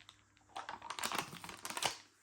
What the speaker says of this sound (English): getting rid of that lid.